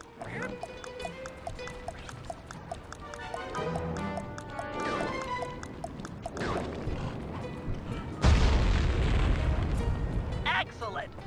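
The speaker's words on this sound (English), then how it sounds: "Place the dynamite when you get near the anchor, or kaboom!" Dynamite blows up in the video game Sly 3 as a sudden loud, rumbling boom that rolls on for a couple of seconds after earlier game sounds and chatter-like effects.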